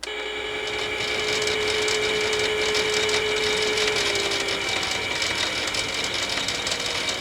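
A Miele Novotronic toy washing machine runs its spin cycle, giving off a steady, close whirring motor drone with a faint high whine that holds unchanged throughout and no voices.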